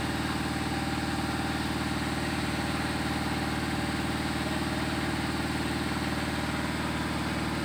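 A Nissan Livina with a rough-running engine idles steadily at its exhaust pipe, a close, constant low rumble with an even pulsing beat and no other sounds.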